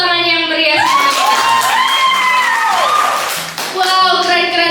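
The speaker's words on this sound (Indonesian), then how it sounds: "boleh beri tepuk tangan yang meriah semuanya" Audience clapping and cheering at a student MC school event in Surabaya, a broad crowd roar with whoops and shouts that runs steadily for several seconds, dips briefly near the end, then swells again.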